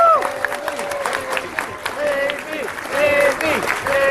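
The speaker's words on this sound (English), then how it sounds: "amazing round of applause for our AV team" An audience at a closing ceremony applauds the AV team, clapping and some cheering carrying on steadily while whistles or shouted voices rise over the crowd.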